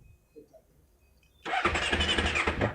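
A Honda CBR250 fuel-injected motorcycle's electric starter cranks after a quiet moment, a sudden loud whirring burst that continues buzzing to the end, with the engine failing to start.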